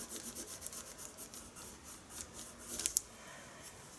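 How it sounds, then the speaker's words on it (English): Steady soft rubbing and scratching of a white Caran d'Ache colored pencil burnishing a drawing of curly brown fur, in quiet repeated strokes, with a few sharper scrapes near the end. "I'm going to burnish with the white Caran d'Ache"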